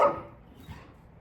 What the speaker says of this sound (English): Lola doesn't like the